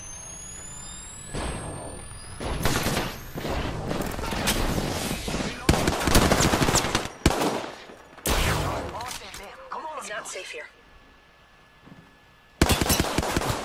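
Rapid bursts of automatic gunfire and single shots in an Apex Legends Season 3 duo match, loud and dense in repeated volleys with brief lulls between them.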